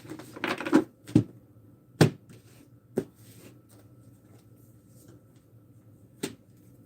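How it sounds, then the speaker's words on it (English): Tarot cards shuffled and snapped in a few quick bursts, then scattered soft taps, close and fairly quiet. "1 more shuffle, please, for Edgar."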